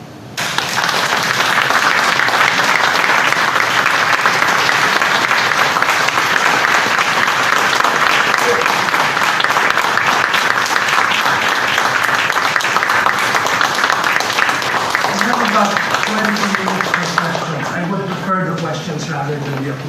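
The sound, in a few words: audience applause after a lecture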